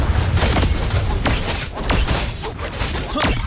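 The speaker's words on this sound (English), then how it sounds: "Your team destroyed a turret." A turret is destroyed in a video game, a loud dense barrage of booming thuds and sharp blasts repeating throughout in close rumbling succession.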